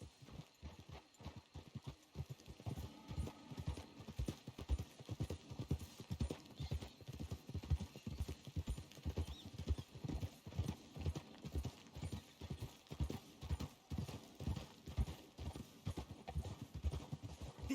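Horses clip-clop at a steady walking pace in Red Dead Redemption 2, a continuous, even rhythm of hoofbeats at moderate distance with faint background ambience and no talk.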